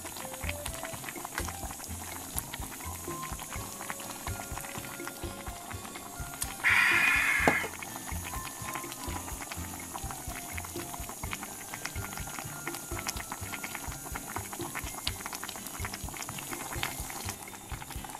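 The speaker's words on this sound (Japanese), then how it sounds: "またグツグツね音鳴ってる方がね動画的にはねいいんですけどもね" A salt chanko hot pot with chicken meatballs simmering on the stove, bubbling in a steady, close, continuous patter with a brief louder burst partway through. No one speaks.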